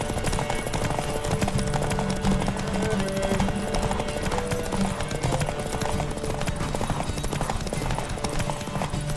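Rapid, steady hoofbeats of a galloping horse in The Witcher 3 pound continuously, layered over a busy, dense background of game sound.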